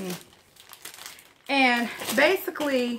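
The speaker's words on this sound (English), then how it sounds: "you're going to need some transfer paper" Printer transfer paper crinkles softly for a moment, then a person starts talking close by.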